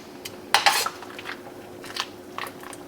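Cooked fettuccine tossed with pesto in a bowl straight from the pot, giving a few clattering utensil-on-bowl scrapes and clinks in short bursts, loudest early, then lighter scattered knocks.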